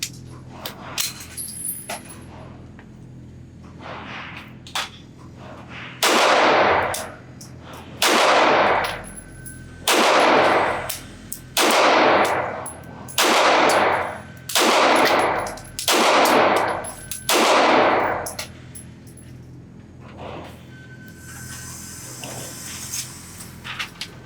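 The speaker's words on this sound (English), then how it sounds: "I'm going to shoot this thing single action first, just to see how it feels, to make sure this thing functions" Nine single-action shots from a Bulgarian Circle 10 Makarov 9x18mm pistol at an outdoor range, loud sharp reports spaced about a second apart, each trailing into a brief echo, with quiet pauses before and after the string.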